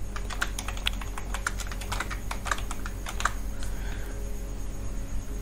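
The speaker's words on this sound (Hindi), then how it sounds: "इस तरह से हम लोग टाइप करेंगे" Fast typing on a computer keyboard during a beginner website-design lesson, clattering keystrokes in quick irregular bursts with short pauses, close and fairly loud over a steady low background hum.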